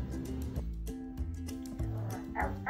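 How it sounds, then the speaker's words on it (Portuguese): A small Shih Tzu puppy yips and barks in short high-pitched bursts, a handful of close, fairly quiet barks with brief whimpers between them, alone without talk. "Gente, agora eu tenho um cachorro."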